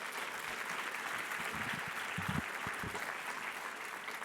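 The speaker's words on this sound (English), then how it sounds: "Let's give her a big round of applause." Conference audience applause at a climate leadership plenary, a continuous, fairly distant patter of many hands, with a few low thumps partway through.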